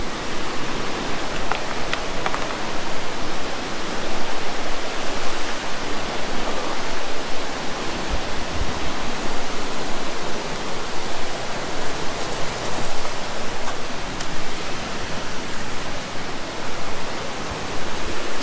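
A steady, loud roar of rushing water fills the whole stretch, broad and unbroken like a swollen creek pouring past nearby.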